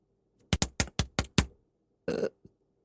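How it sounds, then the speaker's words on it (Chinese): A VTuber's burps, a rapid run of five or six short, punchy eructations followed by one longer, noisier burp and a tiny final one, close and clear with no talking. "对不起，我们打个嗝，等等，再打一个。"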